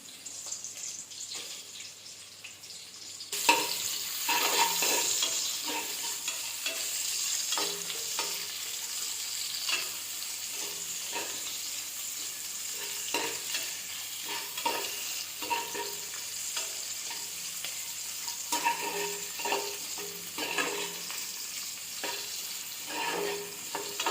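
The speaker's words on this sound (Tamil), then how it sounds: "ஒரு வெங்காயம் எடுத்து வச்சுருக்கேன். இதை கூட சேர்த்துக்கலாம்." Sliced onion and a bay leaf with cloves hit the hot pan for ghee rice and erupt into a loud, steady sizzle, with occasional light clicks of stirring.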